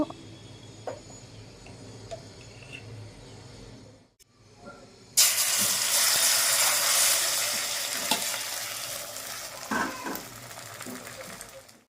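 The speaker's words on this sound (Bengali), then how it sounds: "এবার আমি অমলেট করে নেব" Egg for an omelette hits a hot pan: after a few seconds of quiet kitchen hum, a loud, sudden sizzle bursts up and keeps hissing steadily up close, with a few small clinks.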